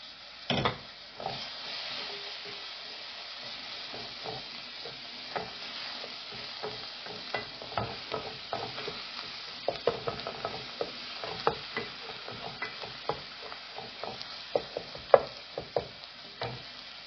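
Garlic paste, salt and ginger paste fry in a pan for a fish curry, giving a steady close sizzle broken by frequent scraping clicks of a stirring spoon that grow sharper and busier toward the end.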